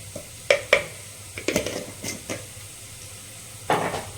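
Garam masala and poppy seeds frying in a clay pot, with scattered sharp scrapes and clinks of a spoon stirring over a faint sizzle, close and irregular, no talking.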